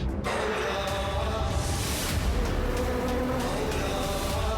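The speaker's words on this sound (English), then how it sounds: "The truck was hauling 22 million killer bees." A swarm of killer bees hauled by a truck buzzes in a loud dense drone that holds steady for several seconds, close and continuous, with no talk over it.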